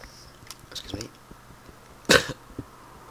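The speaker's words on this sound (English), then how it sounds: "nasty cough" A single sharp cough stands out against quiet background noise, preceded by a few soft shuffling sounds.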